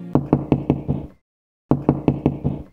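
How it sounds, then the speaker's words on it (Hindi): Knocking on a door, two close, crisp bursts of five rapid raps each, separated by a brief silence. "छोटी ननद दरवाजा बजाकर धीमी आवाज में बोल रही थी"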